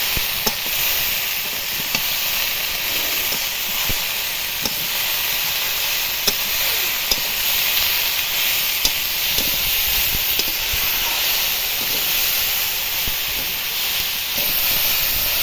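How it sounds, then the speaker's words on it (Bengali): Okra and onions sautéing in a pan give a steady, even hiss, with faint scattered ticks and clicks throughout and no talking. "এবার দেব কষিয়ে রাখা ভেন্ডি দিয়ে আবার এবার ভালো করে কষিয়ে নেব"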